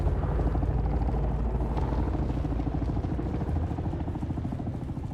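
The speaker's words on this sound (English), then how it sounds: "Now every time I hear a chopper, I'm gonna wonder if it's you." A helicopter flies in the video game Dune Awakening, its rotor chop a steady, rapid thumping over a low engine drone that carries on unbroken and fairly close, with no voices.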